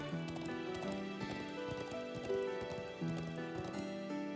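Horse hooves clip-clop steadily in the video game Trails of Cold Steel IV, a faint, even rhythm of hoofbeats over a bed of in-game music.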